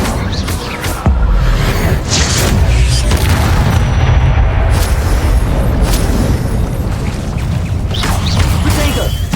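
Fiery Incendio spell blast in the Hogwarts Legacy video game, a loud, sustained booming roar of flames and magic that fills the whole stretch, with a sharp burst near the start.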